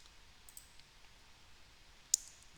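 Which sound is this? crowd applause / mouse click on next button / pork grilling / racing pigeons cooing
mouse click on next button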